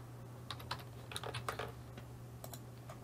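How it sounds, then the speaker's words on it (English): Close, quiet clatter of fingers typing on a computer keyboard, a short burst of quick irregular keystrokes over a steady low electrical hum, with no voices. "then I type hello"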